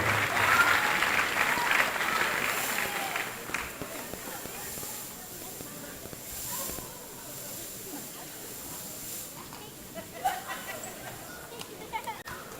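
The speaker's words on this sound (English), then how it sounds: "give them a huge round of applause for this milestone" Crowd applause fills a high school wrestling gym at a homecoming dual meet, strongest at the start and thinning into scattered claps and crowd murmur; voices talk underneath.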